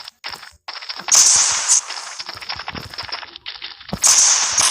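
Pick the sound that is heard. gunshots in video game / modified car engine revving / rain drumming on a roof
gunshots in video game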